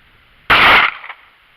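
A single sharp gunshot from a Ruger LCP II pocket pistol at a shooting range, one loud close crack with a brief tail, otherwise quiet.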